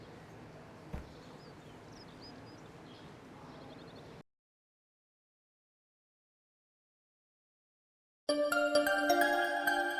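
Muffled background noise drops to silence, then a bright electronic phone ringtone starts up abruptly and plays loudly to the end.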